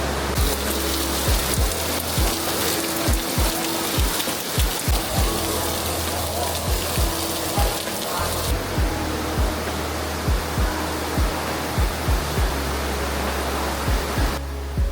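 Steady, dense rushing of heavy rain pouring down in Bangkok, loud and close, with repeated low thumps underneath and no voices.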